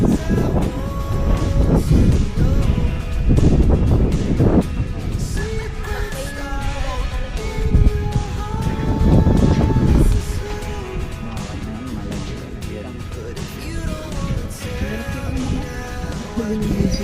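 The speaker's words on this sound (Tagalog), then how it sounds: "Lakas ng hangin." Strong wind blowing across an open campsite at an agropark, a loud continuous gusty rumble buffeting the microphone for the whole stretch, with other faint background sounds underneath.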